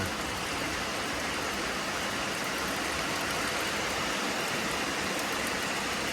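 Steady, dense rain pours down continuously, a broad even hiss with no pauses and no voices.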